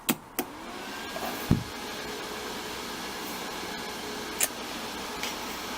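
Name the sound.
fan running behind brewing controller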